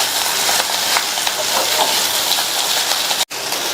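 Small tamarind pieces sautéing in a pan for thuvaiyal give a steady, close sizzling hiss that runs continuously, broken only by one brief dropout near the end.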